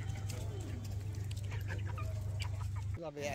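Chickens cluck close by at a homestead in a Sundarbans village, soft irregular clucks over a low steady hum, with faint voices in the background and a brief break near the end.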